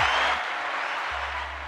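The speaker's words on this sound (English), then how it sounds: "give me a hand clap for Eli right there" Hand-clapping applause at a financial-topic livestream, a dense continuous spatter of claps with a low hum underneath.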